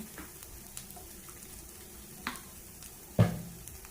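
Tuna frying in oil in a pan gives a soft, steady sizzle with faint stirring scrapes and one louder clatter near the end. No one speaks.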